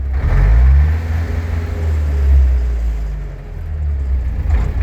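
A D-240 diesel tractor engine runs at a steady idle with a deep, loud low rumble and a slight rise in revs early on, close by with no talk.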